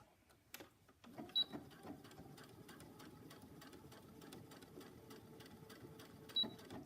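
A home sewing machine stitches fabric pieces for pajamas in a quiet room, running in a steady, fast mechanical whir after a brief start, with a couple of small clicks along the way and no talking.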